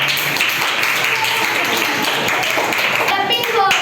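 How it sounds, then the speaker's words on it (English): Classmates clap for a student's chart project in a classroom, a steady, fairly loud patter of many hands that continues throughout while a voice speaks briefly near the end. "Clapping for him."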